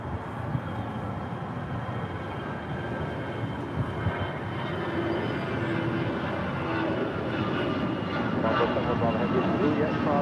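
American Airlines A319 jet departing LAX for Austin, a steady broadband roar of engine and airflow that builds slightly toward the end, with voices talking over it.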